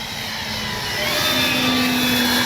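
A Dynam F6F Hellcat RC plane flies past, its electric motor a steady whine that rises in pitch and grows louder as it approaches overhead.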